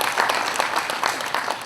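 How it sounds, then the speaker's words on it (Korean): An audience at an agricultural fruit-consumption panel discussion applauds warmly, a steady, even wash of clapping from a seated crowd in a conference hall, heard briefly and fairly close. "네, 큰 박수 부탁드리겠습니다."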